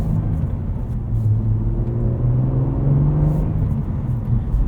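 A 2024 Cadillac CT4-V Blackwing with a six-speed manual rumbles steadily from inside the cabin, its engine note rising and settling as gears are rowed through.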